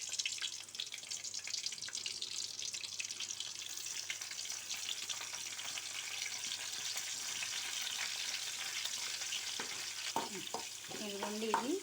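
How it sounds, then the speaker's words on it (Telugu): Onion, dried red chillies, crushed garlic and curry leaves fry in oil as a tempering, giving a soft, continuous sizzle with occasional stirring scrapes, fairly quiet and close, with a brief voice near the end. "ఇదిగోండి తాలింపు గోల్డెన్ కలర్లో వేగిందండి"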